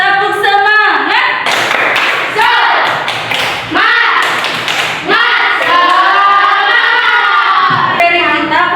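A class of children does a 'tepuk semangat' clapping routine, rhythmic bursts of claps alternating with chanted voices, loud and close.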